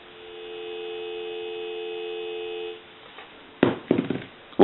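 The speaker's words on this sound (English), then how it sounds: "And I'll give you some dial tone." A steady telephone dial tone plays through a Kellogg wood wall telephone that has been converted and repaired. It holds evenly for almost three seconds and then cuts off, followed by a few clicks and clunks.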